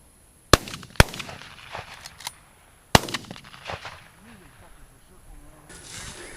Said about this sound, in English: Old 12 gauge. 2 shots, you got her.